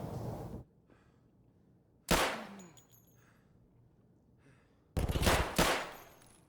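Makarov pistol fired in Escape from Tarkov: three loud, sharp shot bursts with near silence between them, the last one doubled into a quick pair.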